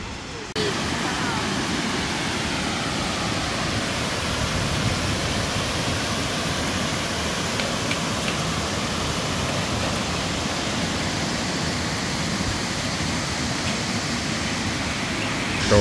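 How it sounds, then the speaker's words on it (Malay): A waterfall close to a parking area, with rocks people can climb, gives off a constant, dense rushing roar. The sound stays even and loud throughout, with faint wind mixed in. "Air terjun dah nampak daripada sini."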